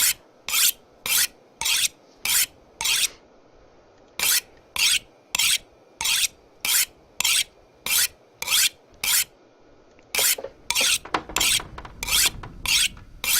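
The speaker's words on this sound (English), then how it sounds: "Get that knife sharpened up too." A knife is sharpened in a survival video game, a rhythmic series of close, raspy scraping strokes repeating about twice per second, with no talk.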